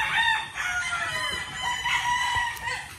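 A gamefowl broodcock rooster crows close by, with a drawn-out rising and falling call standing over steady farmyard background noise.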